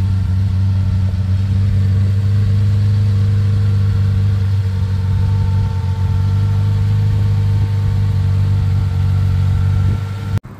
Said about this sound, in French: On a le B110 du coup en marche là.